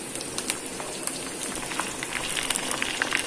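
Steady sizzling and crackling of chicken drumsticks frying in a hot pan, close and continuous, with scattered pops and no talking.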